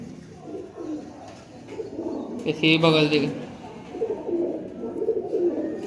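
Pigeons coo softly near and around at Liaquat market's pigeon sale, their low rolling calls mixed with a brief spoken remark.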